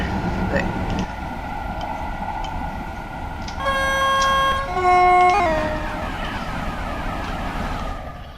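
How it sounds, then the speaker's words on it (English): A TGV high-speed train in Train Simulator runs near top speed: a steady rolling rumble and whine with a loud sustained horn tone in the middle, then fading back to the running drone. "There's a TGV travelling at close to top speed on Train Simulator."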